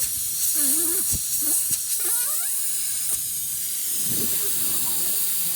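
Steady broadband hiss of an air leak blowing against a car's AC compressor, a constant rushing wash throughout with a few faint clicks and brief tonal squeaks over it.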